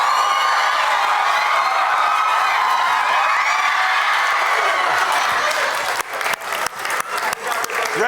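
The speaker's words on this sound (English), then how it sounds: "round of applause for you guys" Audience at a school assembly applauding and cheering loudly, a sustained wash of clapping with whoops, then thinning into separate claps near the end.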